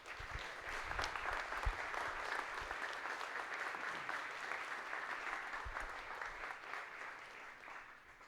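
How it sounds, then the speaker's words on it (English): An audience at a corporate company event applauds in a steady, dense wash of clapping that holds evenly for about eight seconds and fades slightly at the end, with a few low thumps underneath. "And can we please give a round of applause?"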